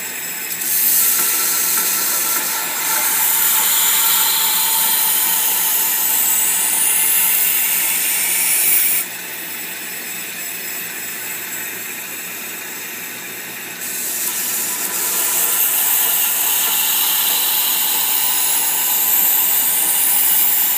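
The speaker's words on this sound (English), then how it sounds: "now I'll just sharpen the knife like I normally would sharpen a knife" A knife is sharpened with a continuous, loud, hissing grind that runs almost unbroken, dipping briefly in tone partway through before resuming.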